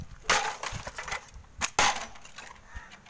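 A mixer grinder being smashed up close, with sharp splintering cracks and crashing bursts over a rattling clatter of breaking parts, no voices.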